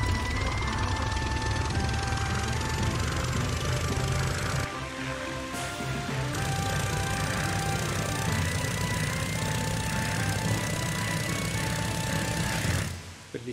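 A propeller aircraft engine in the Sky Odyssey flight game drones loud and steady throughout, with a brief drop in the middle and a cut near the end, with no talking over it.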